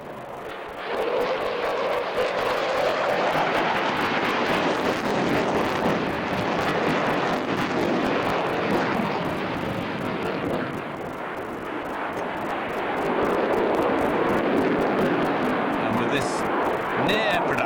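A prototype aeroplane flies a high-alpha velocity vector roll at the Farnborough International air show, its loud engine roar sustained and rising and falling as it passes, with wind buffeting and a commentator talking over it throughout.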